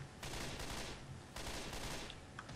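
Rapid video-game gunfire from Left 4 Dead 2 crackles in dense, overlapping bursts, heard faintly at low level with no talking.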